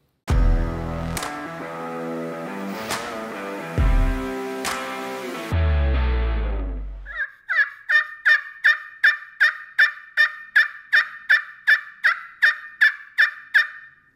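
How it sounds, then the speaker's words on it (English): Yelping on a Triple Toe Calls Rendezvous turkey pot call: after some loud background music, a steady run of about fourteen evenly spaced, sharp yelps rings out clearly and alone. "I'm going to show you how to do a Yelp on our Rendezvous"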